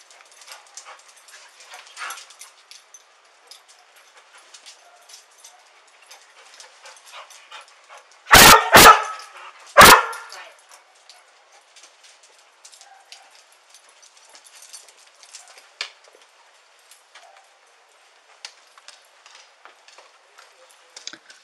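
A trauma dog alerting at a couch on a porch lets out three loud, sharp barks in quick succession midway, surrounded by long stretches of faint patter and background noise.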